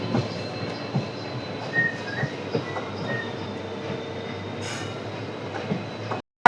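A WDG4D diesel locomotive hauls the Rajkot-Porbandar Express off a loop onto the main line, a steady rumble of wheels and engine with occasional faint squeals, ending in a sharp cutoff.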